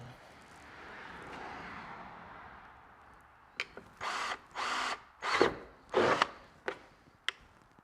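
A power drill whirs in several short bursts of a few seconds each, drilling holes for a CFMoto Z950 Sport lower door insert, close and loud, after a quieter rustling start, with a couple of sharp clicks between.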